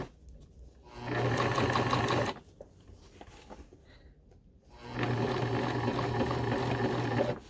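Sewing machine stitching over a zipper, two sustained loud whirring runs of steady rapid stitching separated by a quieter pause with faint handling sounds.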